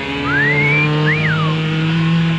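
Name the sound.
racing trucks revving and launching off the line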